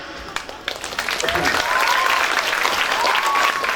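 An audience at an Indonesian religious sermon bursts into applause that swells quickly and stays loud and dense, with a few whistles and voices rising through the clapping.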